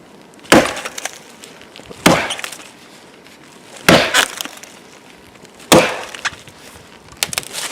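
Axe strikes on a wedge in a tree-felling cut, five sharp woody whacks spaced about two seconds apart, loud and close with brief splintery cracks after each blow.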